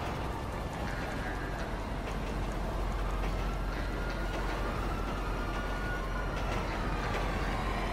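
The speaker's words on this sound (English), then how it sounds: "Get on the train!" A train in the GTA V video game gives off a steady, dense rumbling drone with faint metallic squeals, continuous and fairly loud throughout.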